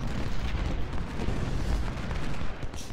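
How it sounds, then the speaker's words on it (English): Artillery in the Ultimate General: Civil War battle game, a dense, continuous rumble of overlapping booms and blasts filling three seconds at steady loudness, with no talk. "Playing with the artillery."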